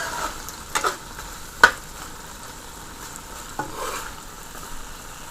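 Chickpea curry masala fries in a pot, a soft steady sizzle under occasional scraping stirs and a few sharp utensil knocks against the pot.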